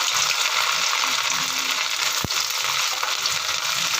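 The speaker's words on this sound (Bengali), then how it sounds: "ব্রাউন হওয়া পর্যন্ত নারকেলগুলোকে এবার আমি একটু ভেজে নিচ্ছি।" Coconut pieces frying in hot mustard oil give a steady, loud, close sizzle throughout, with one sharp tap from a utensil partway through.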